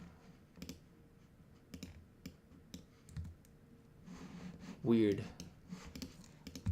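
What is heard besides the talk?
typing on a computer keyboard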